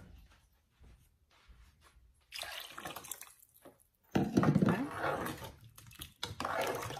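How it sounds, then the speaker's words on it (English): Water pours in a steady stream into a cooking pot of turnip greens, starting faintly and growing louder with a brief splash, stopping and starting again near the end. "So we'll add another 1/2 cup, so you'll use a total of 5 cups of water."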